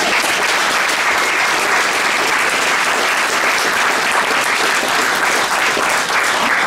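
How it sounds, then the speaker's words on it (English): Sustained applause from an audience at an interfaith immigration forum in St. Simon's Episcopal Church, steady and dense throughout with no break. "How about a round of applause?"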